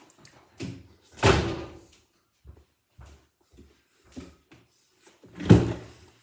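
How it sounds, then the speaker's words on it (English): An indoor door is pushed shut with a solid thud, joined by a few softer knocks and bumps spread over several seconds and a second strong thump near the end; no one speaks. "Shut the door"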